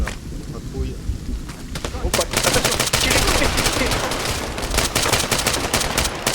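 Gunfire in the video game ArmA 3, with bursts of rapid shots that build into dense, loud sustained firing, and voices talking over it.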